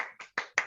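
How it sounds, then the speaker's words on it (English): Four crisp, separate hand claps ring out close by in quick succession, each with a short decay and no voices. "let's give him a big round of applause"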